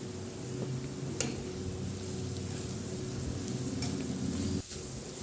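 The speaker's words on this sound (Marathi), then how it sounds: "थोडी हिरवी मिरची मी यामध्ये ॲड केली आहे। व्यवस्थित परतवून घ्या।" Green chillies and grated carrot sauté in a pan, giving a steady close hiss of frying with faint stirring scrapes throughout and a brief utensil knock near the end, with no voices.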